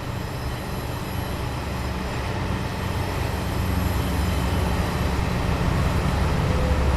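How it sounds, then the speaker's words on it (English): Trains rumbling into a busy station in a train simulator game, a steady, loud rolling rail noise that builds slightly over several seconds with no talking. "there's literally 2 more trains coming in right now."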